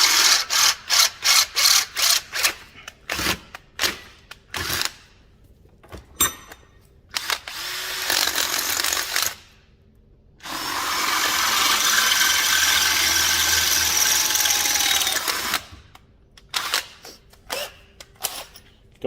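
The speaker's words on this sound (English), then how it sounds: "hopefully just a quick drill and it should come through." A power drill whirs in a run of short bursts, then grinds continuously for several seconds through a rubber bush on an Alfa Romeo GTA before a few final quick pulses.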